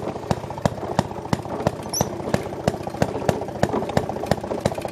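Maytag Model 92 gasoline engine on a Maytag 90 washing machine, running roughly when short of fuel flow: a steady, close putt-putt of sharp regular firing pops over a low mechanical clatter.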